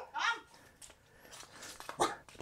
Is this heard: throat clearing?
no